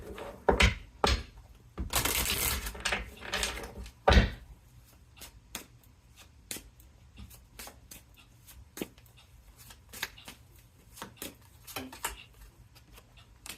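Crisp tarot card shuffling, a dense riffle burst followed by scattered light snaps and taps of cards being handled, close by with no talking.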